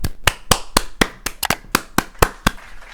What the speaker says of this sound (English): Come on, clap it up, clap it up